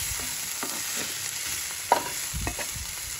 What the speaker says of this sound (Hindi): बस 1-2 मिनट के लिए इसे हम हिलाते रहेंगे